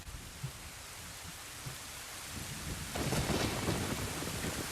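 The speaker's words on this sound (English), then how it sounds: "So Hyrule starts raining." Rain falling in Hyrule in Zelda: Ocarina of Time, a soft steady hiss that swells noticeably partway through, faint and continuous with no voices.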